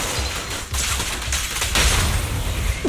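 Rapid fusillade of video game gunfire providing fire support in Zenless Zone Zero, dense overlapping shots and booms, loud and close, continuous across the whole stretch with no talking.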